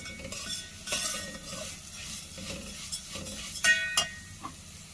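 Vermicelli roasting in ghee with green cardamom, a soft sizzle under scraping and stirring of a spoon against the pan, with a few sharper metallic clinks close by and no talk.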